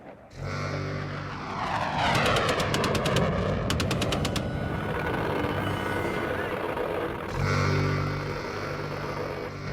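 An American A-10 military jet roars loudly and steadily through a combat scene, with bursts of rapid, rattling fire in the middle and a deep rumble throughout.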